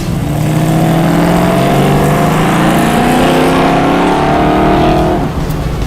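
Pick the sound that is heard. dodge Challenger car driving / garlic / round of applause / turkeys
dodge Challenger car driving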